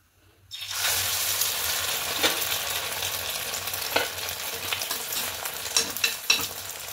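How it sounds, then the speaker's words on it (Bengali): Tomato parathas fry in a hot pan, setting off a sudden, steady broadband sizzle after a brief quiet start, with a few clicks and scrapes of handling near the end, close and unvoiced. "এইভাবে সবগুলো ভেজে নেব।"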